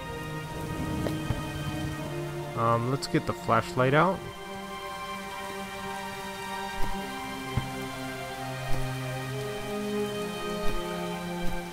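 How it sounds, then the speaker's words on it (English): Steady rain falls in the video game Starbound, a soft continuous hiss under game music tones, while someone talks over it briefly. "It's just rain"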